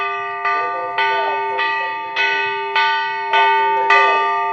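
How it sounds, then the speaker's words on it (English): A bell rings during a polo match, six evenly spaced, ringing strikes about half a second apart, each clanging loudly with a long sustained tone overlapping the next, with no talk over them. "There goes the bell"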